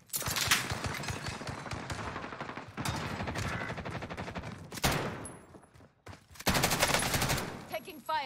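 Rapid automatic gunfire from Call of Duty Rebirth Island crackles in loud, dense bursts, breaking off briefly twice before another heavy volley; no voices.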